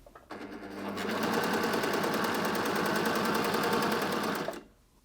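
A coverstitch machine sews a first row of shirring with elastic feeding through, its steady rapid stitching running continuously for about four seconds, close and alone after a brief start.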